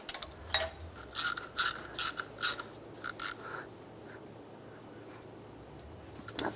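Ratchet tightening bolts on a 2007-13 Chevy Avalanche camshaft position sensor, with quick bursts of sharp metallic clicking in short rhythmic runs and brief pauses, close up and fairly quiet.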